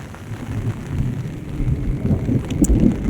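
Heavy monsoon rain lashes down in Gujarat on the first rain of the season, a loud steady roar with low rumbling and gusty wind on the microphone, no voices.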